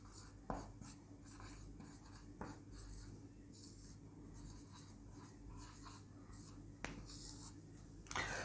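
Chalk or pen writing text by hand during a Hindi grammar lesson, faint scratchy strokes and soft taps in a quiet room with low background hum.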